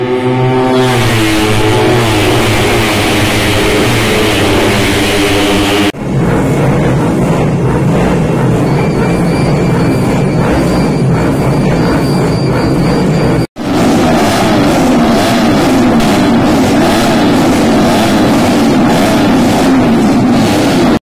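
Race cars at the Mandalika circuit in Lombok during the 2024 Mandalika Racing Series roar loudly and continuously, an engine pitch sweeping past at first, then a dense, sustained engine wash with no voices.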